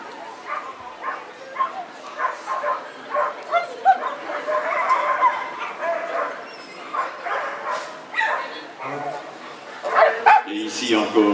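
Dog in man-work bite training barking, yipping and whimpering in repeated excited bursts, close, with someone speaking over much of it.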